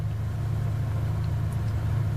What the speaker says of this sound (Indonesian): Kita nyalain dulu AC-nya.